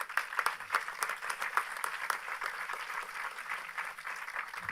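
Show audience applauding steadily throughout, a dense mass of clapping at moderate level with no voices standing out.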